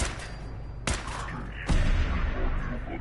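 Gunfire rings out in the video game Fallout 4, with two sharp loud shots over a dense rumbling background of combat noise, the second blast followed by a sustained roar.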